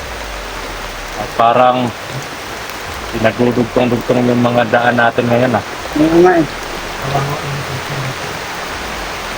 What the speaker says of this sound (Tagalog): Grabe, lakas po ng ulan dito